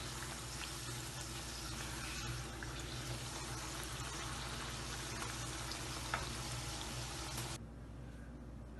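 Bihari kababs frying in oil make a continuous, even sizzle and crackle, close and steady throughout, with no talking.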